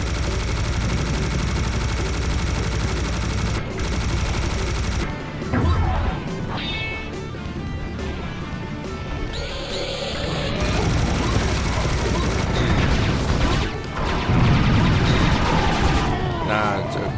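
Machine gunner enemy firing in the shooter game Serious Sam HD: The First Encounter, loud sustained bursts of gunfire and crashing impacts mixed with game effects and music, with a voice talking over it.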